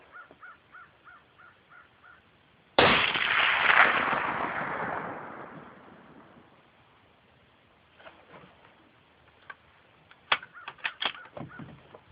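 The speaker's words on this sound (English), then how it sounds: "we're going to send our first of 2 shots" A Mosin Nagant rifle fired at a 200-yard range gives a single sharp, loud report followed by a long, fading rolling echo. Crows caw several times before the shot, and a few light clicks and knocks follow it.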